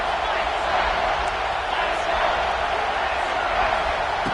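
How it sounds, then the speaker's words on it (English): Football stadium crowd roaring steadily on a third-down play, a dense, continuous wash of cheering and noise with no breaks, loud and enveloping throughout. "3rd down and the crowd really getting into it."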